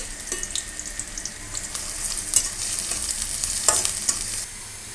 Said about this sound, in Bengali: মাছটা ভালোভাবে ভাজতে হবে